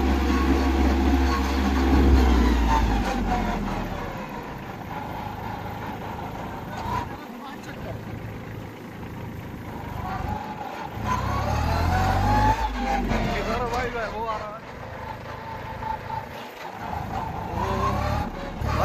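A Kubota 21 HP mini tractor with a small front silencer is driven fast, its engine droning and revving up and down nearby in rising and falling surges while someone talks over it.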